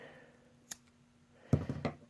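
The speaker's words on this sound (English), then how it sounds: "what I'm going to do is just cut that cord" A single snip of macrame cord cut with small springless pliers, a faint close click followed by a cluster of soft handling clicks and rustles in a quiet room.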